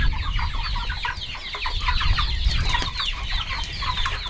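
Many chickens cluck continuously on a family farm in the Bauska area of Latvia where broilers and laying hens are raised, a loud close flock with dense overlapping calls.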